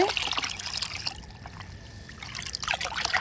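Homemade Korean-style liquid plant fertilizer is poured into five litres of water and stirred, giving splashy trickles and sloshing in bursts at the start and end with a quieter pause between, close up.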